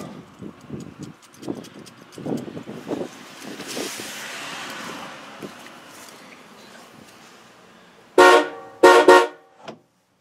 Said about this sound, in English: Got Cadillac horns on my Chevy truck.